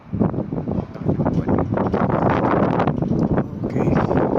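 Loud, blustery, cold wind buffets the microphone with constant low rumbling gusts by the riverside in Mainz, with no voices heard.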